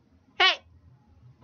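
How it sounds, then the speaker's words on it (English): A single clear meow from one of two pet cats, Zippy and Scarlet, in a quiet room; a short rising-falling cry lasting about a quarter second, close by, with no talk over it. "If you hear a cat, that's my cats"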